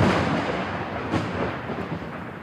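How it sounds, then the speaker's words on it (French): Thunder from a lightning strike rolls and rumbles loudly, a broad booming wash that starts strong, swells again around midway and slowly fades, with no voices. "Et cette onde de choc, c'est ce qu'on entend, c'est le tonnerre."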